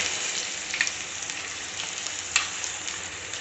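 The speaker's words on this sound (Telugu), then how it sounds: "ఇప్పుడు వేగుతున్నాయి చూడండి" Punugulu, fritters made from idli batter, frying in hot oil with a steady close sizzle and a few brief pops and crackles. No voices are heard.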